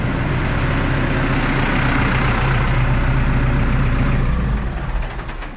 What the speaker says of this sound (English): Run off that tractor again for a minute.